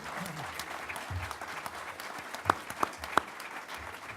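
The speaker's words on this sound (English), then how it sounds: "Can we get a round of applause for all these candidates?" An audience at a 2016 Arizona Corporation Commissioner debate applauds the candidates with a steady patter of clapping, a few sharp, close claps standing out near the end and faint voices underneath.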